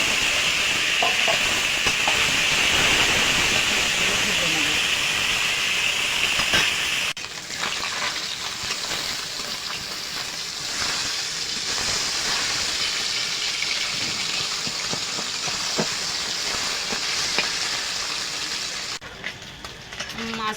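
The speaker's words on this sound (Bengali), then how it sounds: "তেলটা গরম হয়ে গেছে, এবার আমি মাছগুলো দিয়ে দেব" Maya fish pieces frying in hot oil make a dense, hissing sizzle close by. It shifts abruptly to a slightly softer, crackling fry partway through and keeps going steadily to the end.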